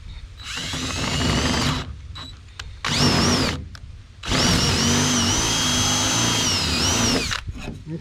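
A power drill with a large bit bores a hole into a wooden bee hive, in two loud sustained bursts of whining motor and cutting noise separated by a brief pause, with no talking.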